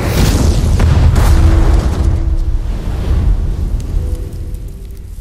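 A state facility building is blown up in a loud, close explosion, a heavy boom that rolls into a long rumbling decay as debris settles.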